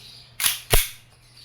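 A WE 1911 Type B airsoft pistol fires two crisp, close shots about a third of a second apart, alone against a quiet background.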